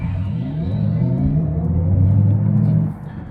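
A Xiaomi SU7 Ultra electric car launches hard using launch control, a rising rumbling drive whine that builds for nearly three seconds and then drops away, heard close inside the cabin.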